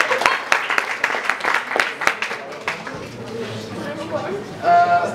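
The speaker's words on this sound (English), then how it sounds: "A round of applause for Fiona" An audience claps for an award recipient at a presentation, steady applause for about three seconds that thins out, followed by a speaking voice near the end.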